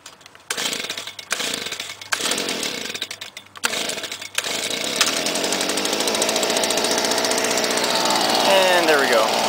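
A Stihl FS70RC string trimmer is pull-started after setting the choke. A few choppy bursts of engine sound are followed by the engine catching and running in a loud, steady, buzzing drone close by.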